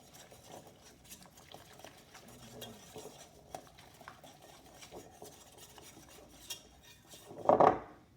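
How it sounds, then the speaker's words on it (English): Eggs and cooking oil whisked in a mixing bowl for a pumpkin chocolate chip bread batter, a soft scraping, clinking patter of utensil against bowl, quiet and steady, with a louder clatter near the end. "I'm going to go ahead and give this a whisk. Want to make sure those eggs are broken up."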